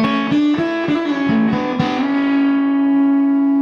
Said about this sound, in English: The Red Llama is based on the Anderton tube sound fuzz.